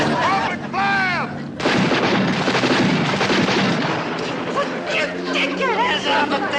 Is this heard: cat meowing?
no